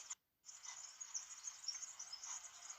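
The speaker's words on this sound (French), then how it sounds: "Qu'est-ce que c'est, mon amour, tu entends? C'est des petits oisillons." Baby birds chirp outdoors, a thin, high, continuous chatter after a brief pause, fairly faint and with no one speaking.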